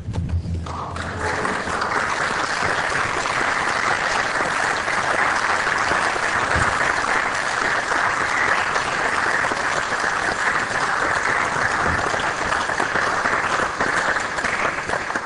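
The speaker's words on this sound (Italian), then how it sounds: "con orgoglio gli dedica un caloroso applauso in segno di gratitudine" Warm, sustained applause fills a city council meeting chamber, a dense steady clapping from many hands lasting well over ten seconds without talk.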